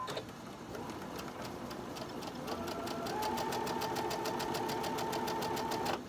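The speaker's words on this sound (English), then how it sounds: "And let's sew that." A domestic sewing machine stitches quilt pieces for a barn block at a quarter-inch seam, its motor whirring steadily with a rapid, even needle clatter that rises slightly in pace partway through, close and alone without talk.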